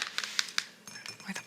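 Plastic watercolor mixing palette handled close to the microphone, a few quick crinkly taps and clicks in a short burst with soft whispering around them.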